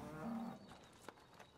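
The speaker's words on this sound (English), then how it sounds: "bringing in the cows for their second milking of the day" Dairy cows being herded from the fields onto a farm for milking moo once, a low drawn-out call followed by faint shuffling and outdoor background noise.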